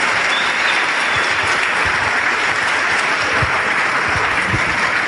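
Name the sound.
audience applause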